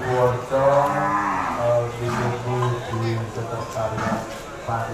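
Big cattle at a 2020 livestock contest in Java, bellowing in low drawn-out moos, several repeated calls close by over crowd murmur.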